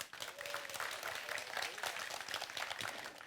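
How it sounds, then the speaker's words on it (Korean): A lecture audience applauds as a speaker is introduced for a talk, continuous even clapping from a crowd throughout, fairly quiet and distant. "박수 부탁드립니다."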